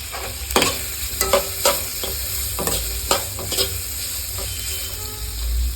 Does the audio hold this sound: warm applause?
no